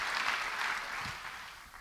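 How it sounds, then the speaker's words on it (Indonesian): Church congregation clapping for a sermon, a short burst of steady, moderately distant applause with no speech over it. "Yang mau beri tepuk tangan bagi dia."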